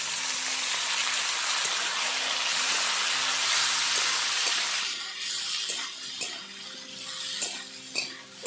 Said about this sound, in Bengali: এভাবে নেড়ে চেড়ে পেঁয়াজ আর আলু কুচিগুলোকে হালকা লাল করে ভেজে নেব